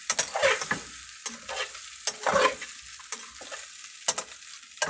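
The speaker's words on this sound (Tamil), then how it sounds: "அருமையாக மாலை கருவாடு ஃப்ரை ஆகிட்டுருக்கு" Dried fish (karuvadu) sizzles steadily as it fries in a pan, with repeated scraping strokes of stirring cutting through the crackle; close and fairly loud, with no talking.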